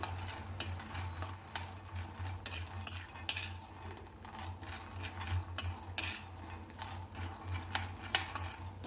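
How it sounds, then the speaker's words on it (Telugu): Unpeeled peanuts are dry-roasted in a kadai, with rapid rattling metal scrapes and clinks from the stirring spoon over a soft, low background hum and no voices. "కడాయి పెట్టేసి పల్లీలు వేంపేస్తున్నానండి. పల్లీలు కొంచెం మంచిగా వేయించుకోవాలండి."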